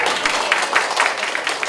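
Audience applause at a community outreach event in Buah Batu district, a steady patter of many hands close by, running continuously through the short moment with some murmuring mixed in.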